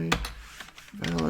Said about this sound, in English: A little sloppy on my typing, but good.